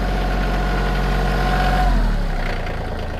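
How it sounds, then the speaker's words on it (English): A Kioti CK2610 compact tractor's engine idles close by, a steady low rumble that holds alone and eases off slightly toward the end. "So I don't know if you can hear over the tractor"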